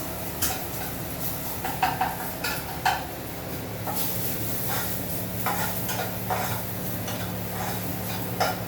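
A spoon stirs red chilli powder, garam masala and an onion-coconut paste in a pan, giving a run of soft scraping strokes over a faint steady sizzle, with no talking.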